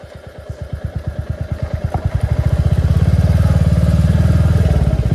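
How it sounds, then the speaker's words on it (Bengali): A motorcycle ridden fast by a helmetless rider chugs close by, its engine pulses quickening steadily into a loud, rising drone as it accelerates. "আর ভাইও ফুল প্রমে আছে, তো সেই চালাচ্ছে ভাই, সেই ভাগাচ্ছে বাইকটাকে নিয়ে"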